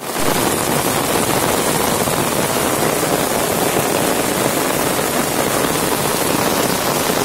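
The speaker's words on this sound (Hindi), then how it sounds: "बहुत तगड़े बारिश हो रही है।" Heavy rain pours steadily over a village road, a dense, even hiss that stays loud and unbroken throughout with no voices.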